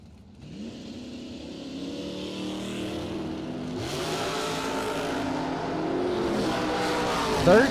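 Drag racing cars at the Spring Stampede drag strip, the Love Truck and a Flip-A-Dial roadster, roar steadily with rising revs as they launch, loud and continuous, with a track announcer's voice over the engines.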